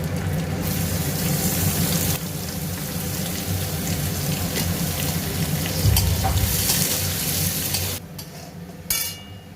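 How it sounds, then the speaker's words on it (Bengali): Cauliflower frying in a pan with a loud, steady hissing sizzle up close, briefly easing near the end before flaring again. "ফুলকপি বলতে যা সবজি আছে একটুখানি ফ্রাই করে দেবো।"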